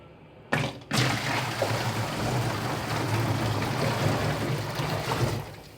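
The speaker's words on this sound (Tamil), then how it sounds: "நம்ம பக்கெட் ஃபுல்லாக நம்ம தண்ணி எடுத்துகிட்டு இப்போ நம்ம தண்ணி தான் நம்ம இதில் ஊற்ற போகிறோம்" A full bucket of water is poured into a thermocol box fish tank, producing a close, continuous gushing splash that starts abruptly and holds steady for several seconds.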